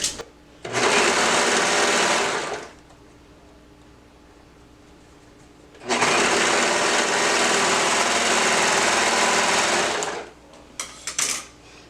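A sewing machine stitches a romper bodice in two long loud bursts of fast, even whirring separated by a quiet pause, ending with a few short stitches.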